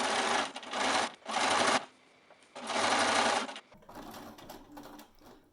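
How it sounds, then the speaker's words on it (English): A sewing machine runs in three quick bursts, top stitching around the opening of a tote bag with its lining. The motor chatters loud and close, with short pauses and some light handling noise between runs. "now we are going to top stitch around the top"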